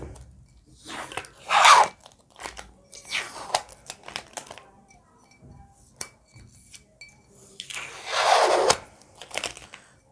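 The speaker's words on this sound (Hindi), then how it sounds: "स्टिकर हटा देते हैं।" A firmly stuck sticker is peeled off a plastic bottle in two bursts of close ripping and crinkling, with quieter rustles and small taps between them.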